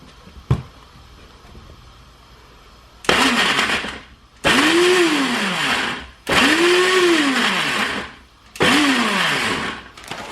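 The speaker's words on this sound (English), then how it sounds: "So the first thing I'm going to do is pop my onion in. Probably start off blitzing that." A kitchen blender blitzes an onion in four loud bursts of whirring motor whine, each rising and falling in pitch as the blades bog down. A short click comes first, and quiet gaps fall between the bursts.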